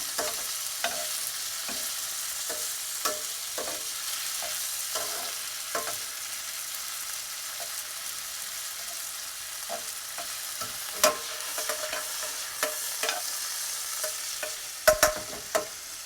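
Pieces of food fry in a hot pan for brown butter Parmesan linguine, a steady close sizzling hiss broken by irregular scraping clicks of stirring, with a few sharper knocks near the end.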